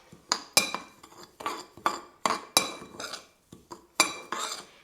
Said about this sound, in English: Give that a nice stir, mix everything in.